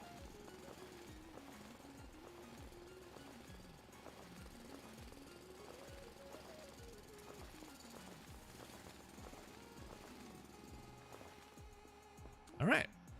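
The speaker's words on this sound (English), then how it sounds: "Do a little bit of manual drilling" Manual drilling in the Foundry video game, a continuous rapid hammering rattle with a wavering pitch that runs steadily throughout, quiet overall, with a short sharp burst near the end.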